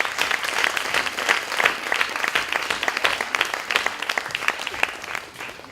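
Lively audience applause at a company evening at the BBox, many hands clapping in a brisk, uneven patter that stays moderately loud before easing slightly at the end.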